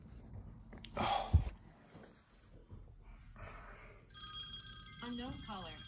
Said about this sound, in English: Every single time, I swear, the phone rings.